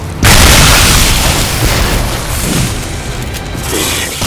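A snake enemy blows apart in the video game Shadow Warrior 2, a loud, close boom that starts abruptly and then rolls on as a dense, sustained rumble of debris and noise.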